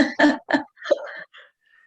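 A speaker at a gardening talk coughs three times in quick succession, then clears the throat with a few rougher, trailing rasps. All are close and fairly loud, with no talk over them.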